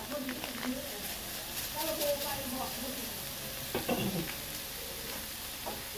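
Pork belly stir-fried with kaffir lime leaves, crushed spices and lemongrass, a steady low sizzle with intermittent scraping stir strokes, fairly quiet and close, while someone talks over it.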